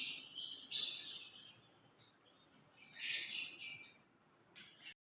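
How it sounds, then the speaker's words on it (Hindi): Birds chirp and twitter in a quiet morning outdoor setting, with bright high calls rising and fading in bursts, fairly near and alone with no talk. "यहाँ पे तो सबसे पहले आप ये जो चिड़ियों का चहचहाना और ये सुबह जो नेचर के साथ आप टाइम स्पेंड करते हो ना"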